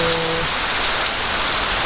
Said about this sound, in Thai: กะฝนตกอยู่หึงห้ำเนาะ